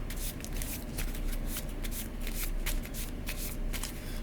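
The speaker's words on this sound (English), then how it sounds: "Now I'll shuffle up my discard pile since my draw pile is now empty." A discard pile of playing cards being shuffled during a solo tabletop card game, a steady close riffling and rustling that runs continuously with brief pauses between riffles, no talking.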